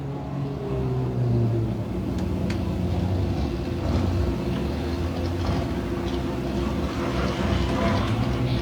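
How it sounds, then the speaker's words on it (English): An enduro race car passes on a speedway amid a dense, steady roar of engines, with a brief louder surge early on and continuous mechanical rumble throughout. "I think the car that just went by"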